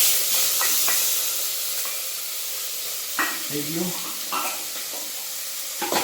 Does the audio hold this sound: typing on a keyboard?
no